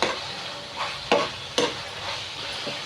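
Chili powder frying in oil in a pan for a tomato and egg curry, a soft steady sizzle broken by a few sharp scraping stirs, close and fairly quiet with no one talking.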